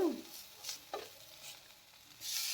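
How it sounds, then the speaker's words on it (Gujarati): Bread cooking on its second side in a lightly oiled pan, a faint soft sizzle broken by a few brief scraping touches of a spatula. "બીજી બાજુ પણ આપણે પકવવાનું છે"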